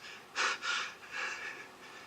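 A man takes two breaths close to the microphone, the first a sharp gasping inhale, the second a softer, drawn-out breath trailing off, heard in a quiet room with no talking.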